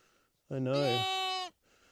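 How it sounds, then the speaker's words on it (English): A single sheep from a flock of newborn lambs and ewes gives one clear, loud, wavering bleat lasting about a second, with quiet background sound before and after. "the mob of sheep are about 400 metres away"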